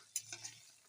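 Mixed vegetable curry for a feast is stirred in a pan after sugar goes in: a soft scrape of the spoon, a couple of light clinks, and faint sizzling underneath, quiet and brief.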